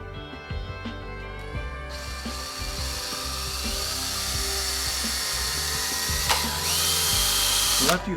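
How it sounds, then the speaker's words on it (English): A power drill whirs steadily with a high mechanical whine, close up, drilling holes through a template, running continuously with small shifts in pitch and a brief surge near the end. "we're going to drill right at each one of the cross marks"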